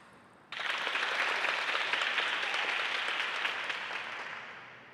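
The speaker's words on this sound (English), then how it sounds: "You can hear them clapping in full support." Teammates clap steadily in support at a senior boys' table tennis match between school teams, a sudden dense burst of applause that holds on evenly and then slowly fades, with no talking over it.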